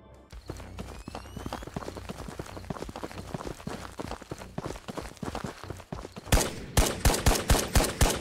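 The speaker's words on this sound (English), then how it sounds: "I just know this loud-ass gun is gonna bring everybody towards us" Gunfire in Ghosts of Tabor, a loud gun firing in long rapid bursts of sharp repeated shots, with a heavier, louder string of blasts closing out near the end.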